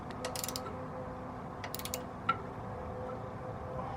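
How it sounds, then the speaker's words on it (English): A ratchet wrench snugs a bolt during a fork kit install on a Honda Super Cub C125, with two short bursts of quick clicking followed by a single sharp tick, quiet and close against a faint background hum. "Snug it with the ratchet."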